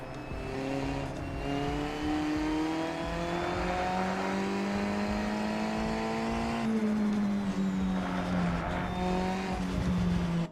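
Race car engine from the Assetto Corsa EVO racing game, heard from outside the car at Kyalami, a loud steady drone with shifting pitch and a short lift and re-rise midway, no talk over it.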